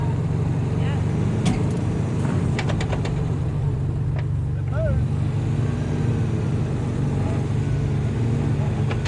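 Holden HR Special station sedan working to drive out of a dug hole, its engine idling and revving steadily at close range throughout, with voices talking over it.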